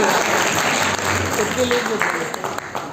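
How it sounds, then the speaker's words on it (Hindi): Dense, steady applause fills the whole stretch, with a voice or two faintly audible beneath the clapping. "तालियां बजाओ अपने लिए।"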